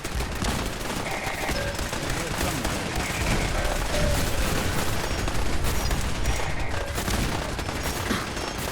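Rapid, continuous gunfire from turrets and rail guns in Fallout 4 rattles without pause, a dense stream of overlapping shots at moderate distance.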